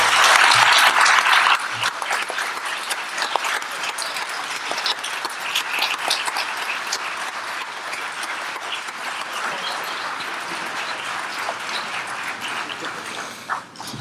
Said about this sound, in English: How about another round of applause for all these great folks?